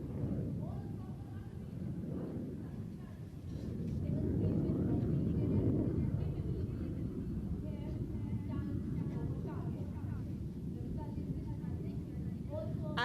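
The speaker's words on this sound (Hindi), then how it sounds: "Chinooks, 2 heavy lift helicopter, tandem rotor Chinook helicopters coming all the way onto the television screens" Chinook tandem-rotor heavy-lift helicopters fly in formation during an Indian Air Force air display over Hindon Air Force Station. A loud, continuous, deep rotor and engine roar swells after a few seconds and holds steady, with a voice partly over it.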